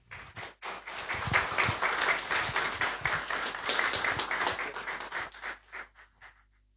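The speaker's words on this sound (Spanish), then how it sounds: "con un fuerte aplauso, por favor" Audience applause at a book presentation in Cochabamba, a burst of many hands clapping that swells, holds, then thins into a few scattered claps before stopping.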